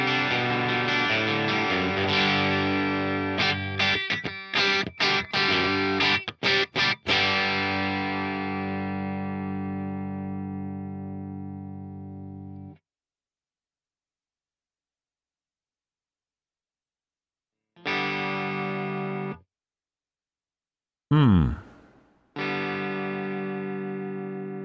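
Electric guitar played through the GigFast mobile amp app on a 412 preset with distortion, sustained chords and choppy bursts that ring out and fade, followed by silence and a few short distorted chords.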